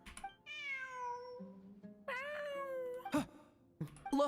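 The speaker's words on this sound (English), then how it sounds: "Look, a cat." A cat in Genshin Impact meows twice in long, drawn-out, whiny calls, close and clear, with a couple of short soft clicks after and no talking.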